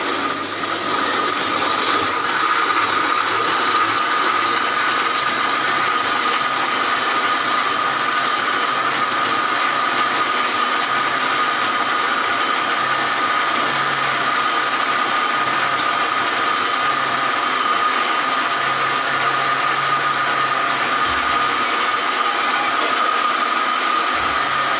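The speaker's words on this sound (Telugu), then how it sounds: "ఇప్పుడైతే మిక్సీ చేసుకుందామండి" A kitchen mixer grinder blends muskmelon with cold water into juice, a steady loud whirring motor drone with a rattling mechanical edge that runs unbroken throughout, with no talking.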